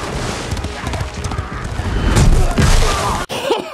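A horse galloping and neighing in the TV series Rings of Power, heavy rhythmic hoofbeats and rumbling impacts under a dense, loud soundtrack, with a short break near the end before the noise resumes.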